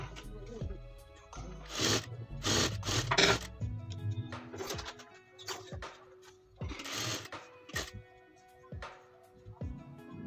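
A sewing machine stitches a silk blouse with lining in short bursts of fast mechanical whirring and clatter, with pauses between runs, close and without talking.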